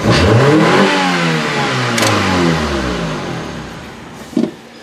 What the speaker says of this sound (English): Listen to those RPMs in this Honda.